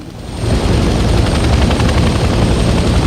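Helicopter engine and rotor in the video game Hell Let Loose Vietnam, a loud, close, dense rumbling whir that swells within the first half second and then holds steady with no talk.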